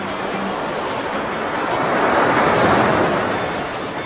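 Ocean waves wash onto the shore at Digha beach in West Bengal on a morning, a steady broad surf roar that swells louder midway before easing slightly, with no voices present.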